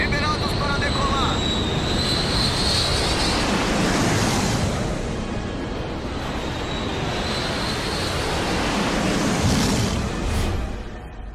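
An aircraft taking off from a runway, a loud, broad jet roar with wind-like rushing that swells and holds throughout, with a high whine on top.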